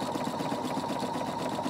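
A sewing machine runs steadily, stitching around the edge of a round fabric tablecloth with a rapid, even mechanical whir, close and alone without talk.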